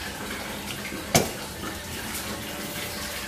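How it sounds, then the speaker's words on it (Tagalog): Hot water is poured from one container into another, giving a steady running splash with one brief clink partway through, close and fairly quiet. "So isasalin ko na lang yung tubig."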